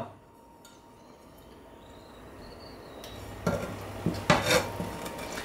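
A plate is set over a pan to cover a cooking potato tortilla, a couple of light ceramic clinks and knocks over a faint, soft sizzle in a quiet kitchen.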